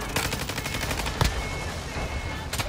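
Rapid gunfire from a video game shootout aimed at a white car, a clattering burst of repeated shots with a sharper crack near the middle and another burst at the end.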